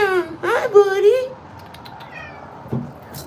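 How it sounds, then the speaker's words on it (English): A stray black cat meows up close, a drawn-out plaintive call followed by a second shorter meow, then quieter rustling with a brief voice in the background. "Hey, check out the cat."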